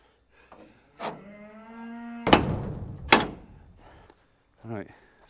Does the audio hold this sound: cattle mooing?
yes